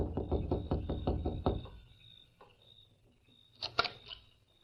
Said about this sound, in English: They saw Lem Foster rapping on the door.